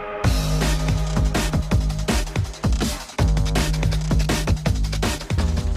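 Sounds from The Crush House, a video game set on a 1999 reality TV show: dense, loud electronic music with a driving beat, punchy percussion and bright layered synths, with a brief dropout partway through and no voice.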